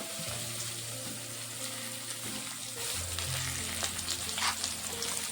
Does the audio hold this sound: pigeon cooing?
no